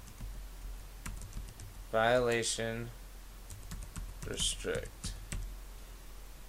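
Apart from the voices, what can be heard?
typing on a computer keyboard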